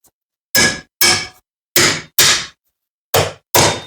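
Ball peen hammer striking metal on the rear sub-frame of a 2007-2017 Jeep Patriot or Compass, six loud ringing clangs in uneven pairs, close by, with silence between them.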